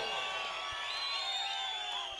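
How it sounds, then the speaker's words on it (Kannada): A crowd at a state-level kabaddi match cheers and whoops in a continuous broad roar that stays dense and steady throughout, heard from within the stands. "ಜೋರಾಗಿ ಚಪ್ಪಾಳೆ"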